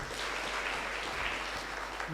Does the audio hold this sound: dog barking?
no